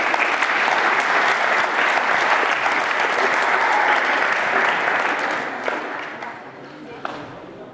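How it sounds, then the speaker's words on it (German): Crowd applause at the final and award ceremony of a TSC youth (D-Jugend) football tournament: sustained, dense clapping from many hands, steady at first and thinning out toward the end. "denen geben wir einen Applaus"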